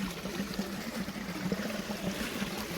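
Irrigation water flows steadily across an ajwain field, a faint, continuous trickling wash with no voices over it.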